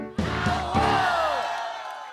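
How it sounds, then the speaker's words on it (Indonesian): A crowd of children and adults yelling "awo" together during a clap-along kids' song, a loud, drawn-out group shout with rising and falling voices that trails off. "Kalau kau senang hati teriak awo."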